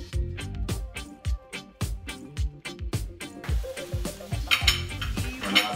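Yams go into a frying pan of hot oil, with repeated sharp metallic clinks of a utensil against the pan in a regular rhythm, then a broader hissing sizzle takes over near the end; no talking.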